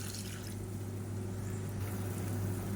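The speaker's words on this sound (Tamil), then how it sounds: "கொஞ்சம் லெமன் சைஸுக்கு புளி வந்து கரைச்சிட்டு அந்த தண்ணியை இதில் சேர்த்துக்கலாம்" Tamarind water is poured into a cooking pan, making a soft, steady liquid trickle beneath a low, constant background hum.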